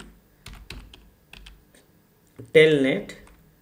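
Commands are typed on a computer keyboard in short, spaced key clicks, close and quiet, with someone talking in between.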